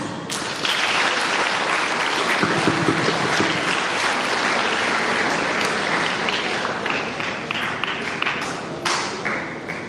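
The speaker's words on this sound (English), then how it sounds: "Dear audience, can we have some claps?" Audience clapping at a school sports day celebration, a dense, steady wash of many hands lasting throughout, fairly loud and close, with a few sharper individual claps near the end.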